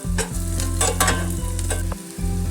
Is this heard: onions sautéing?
yes